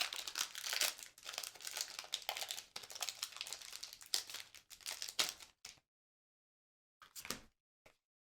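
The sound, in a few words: tearing open a Pokémon card booster pack wrapper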